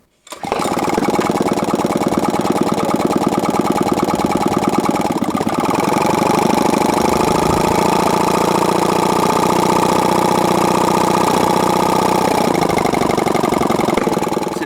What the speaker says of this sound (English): You'll notice this engine hasn't got any muffler system at all.